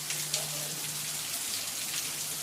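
Rain falls outdoors as a steady, soft patter of drops, an even hiss with a few slightly louder splashes and no talk.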